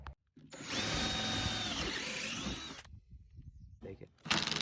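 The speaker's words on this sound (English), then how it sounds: "So I'm gonna drill these out." A power drill bores out 3D printed standoffs for a boat arch, running as a loud, steady whine for about two and a half seconds and then stopping. Quieter handling noises follow, and a burst of noise comes at the end.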